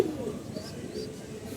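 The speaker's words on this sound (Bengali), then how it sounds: "যেগুলা কবুতর কথা বলতেছে এগুলা বুঝলেন" Pigeons at a coop give soft, low cooing over a faint background murmur in a brief close passage.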